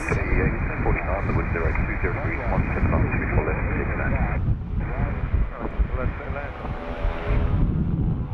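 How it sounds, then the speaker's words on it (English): Aircraft engine testing heard across Sydney Airport, a loud continuous roaring drone that fills the whole stretch, mixed with wind buffeting the microphone and a voice speaking over it. "Doing the engine testing in the background."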